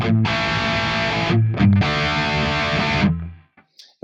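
A dry electric guitar signal runs through an amp model on an Ampero II Stomp, with two distorted strummed chords ringing loud and up front, a short gap between them, then a quick fade to silence.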